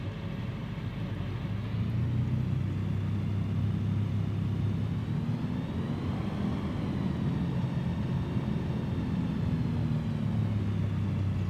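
A Rans S6S Coyote II light aircraft's engine in Microsoft Flight Simulator drones steadily at full power, a continuous low rumbling hum that holds even throughout with no voices.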